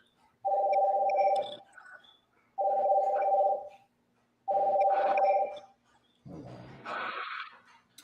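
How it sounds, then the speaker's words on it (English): Phone ringtone sounding for an incoming call, three loud, even electronic tone bursts about two seconds apart, followed by a short brighter alert chime, with quiet gaps between and no talk. "I think I was getting a phone call or something."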